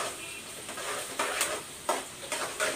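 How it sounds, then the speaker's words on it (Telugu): Onions frying in oil for a paneer and baby corn curry, a steady close sizzle with soft stirring scrapes and a few louder clatters of the spoon against the pan. "నెక్స్ట్ ఆనియన్స్ వేసేసుకొని ఫ్రై చేసుకుందాం."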